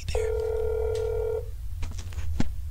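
Telephone dialing from the video game That's Not My Neighbor: a steady held tone of about a second and a half, then a few short beeps, with game ambience underneath.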